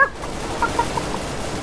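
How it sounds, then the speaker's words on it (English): A chicken in the game CS:GO gives a few short, faint clucks over a low background rumble, with no one talking. "Shh, I'm a chicken."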